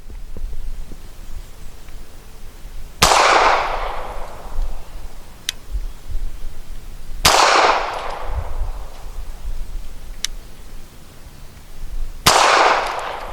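Three loud pistol shots ring out several seconds apart from a SAR USA B6C handgun firing 158 grain ammunition outdoors, each a sharp crack with a decaying echo, with faint metallic pings from ejected brass between them.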